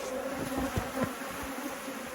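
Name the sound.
bees buzzing around a beehive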